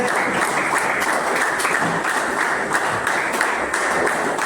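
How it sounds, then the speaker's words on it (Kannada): Loud, sustained applause from a large audience at an organic farmers' training event with a puja ceremony, dense steady clapping filling the whole stretch without pause. "ಜೋರಾದ ಚಪ್ಪಾಳೆ"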